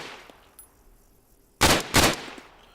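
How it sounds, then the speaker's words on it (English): In a video game, a G3 rifle from the Global Mobilization mod fires two loud, close, sharp reports in quick succession after a quiet stretch, each ringing out briefly. "Now, the G3 from Global Mobilization. Doesn't sound too bad."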